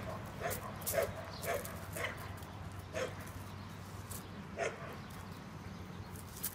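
A blind dog at an animal shelter gives faint, repeated whimpers and soft yips in an irregular rhythm over a steady low background hum.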